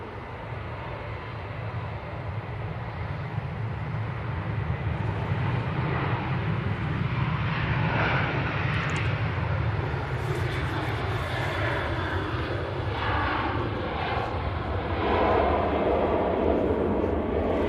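An Emirates airliner at Manchester Airport gives off a continuous jet engine rumble of moderate loudness that builds gently toward the end, with no voices present.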